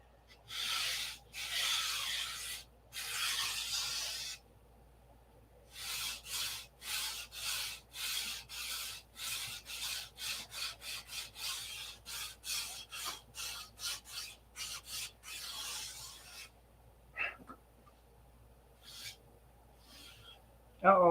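Flaps of a P-47 model plane being hand-sanded, a long series of close rhythmic rasping strokes with brief pauses, mostly alone with a bit of talk near the end.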